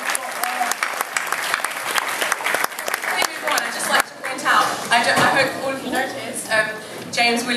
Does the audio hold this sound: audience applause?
yes